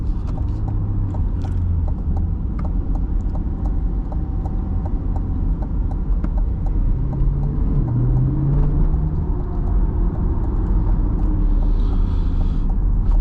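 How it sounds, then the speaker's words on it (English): 2026 Corvette C8 E-Ray in sport mode heading onto a highway, with steady engine and tyre rumble throughout and a brief rising engine note midway. "I'll pop it into sport mode as we head out onto the highway."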